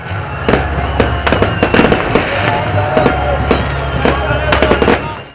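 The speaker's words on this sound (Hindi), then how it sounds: "रात 12 बजते ही शहर के मुख्तलिफ मकामात पर शानदार आतिशबाजी के साथ साल 2023 को वेलकम कहा गया।" Fireworks for the New Year 2023 celebrations in Lahore, including Bahria Town, burst as loud, sharp bangs and crackles in quick irregular succession over a steady background rumble, with no pause between blasts.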